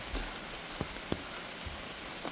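Rain falling on an umbrella during a walk along a park trail in Seoul, a dense, even hiss with a few sharp drop ticks, close and fairly soft, with no voices.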